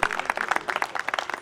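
Applause from the audience at a tribal folk arts festival, irregular clapping from a modest crowd with bursts of hands rising and falling over a short stretch.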